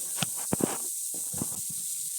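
Small chanda fish coated in salt, turmeric, chili and coriander fry in hot oil, giving a steady close hiss broken by a few sharp pops and spatters, with no talking.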